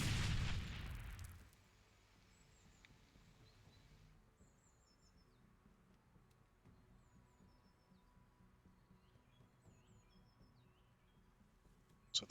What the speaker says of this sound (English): Tossing a grenade in there.